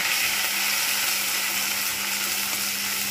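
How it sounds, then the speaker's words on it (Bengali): Bitter gourd pieces fry in hot oil in a pan with five-spice seasoning, producing a loud, dense, continuous hiss and sizzle that holds steady throughout. "এবার আমি এর মধ্যে উচ্ছেগুলো ভালোভাবে ভেজে নেব"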